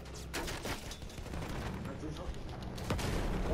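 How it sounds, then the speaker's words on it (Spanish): Rapid video game gunfire crackles in quick bursts throughout a multiplayer match, with the shots layered under a player's voice talking over the action. "El disparo al pecho que le pega a Mickey Mouse, tío."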